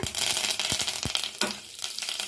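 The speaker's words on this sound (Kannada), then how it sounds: "ಜೀರಿಗೆ ಹಾಕೊಂಡು ಫ್ರೈ ಮಾಡ್ಕೊಳ್ಳೋಣ" Cumin seeds fry in an earthen pot while tamarind rasam is cooked, giving a loud, close, continuous sizzling hiss with a few quick scraping stir strokes.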